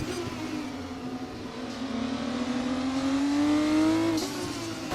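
A Formula 1 car in F1 24, driven by Ollie Bearman at his home Grand Prix, holds a steady high engine whine that climbs slowly in pitch while it overtakes, loud and close, with no voices.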